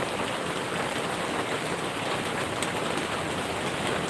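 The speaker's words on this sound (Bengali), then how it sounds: "আমাদের বৃষ্টি হচ্ছে" Steady, dense rain pours down close by, a continuous hiss of drops hitting surfaces with no let-up and no voices.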